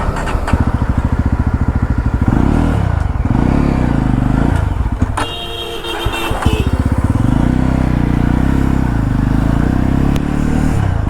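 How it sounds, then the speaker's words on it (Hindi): A Yazdi Roadster motorcycle engine runs loudly and steadily, revving up and down as it rides, with a brief drop and clatter midway. "तो अब बैठते हैं अपनी बाइक पे और करते हैं राइड"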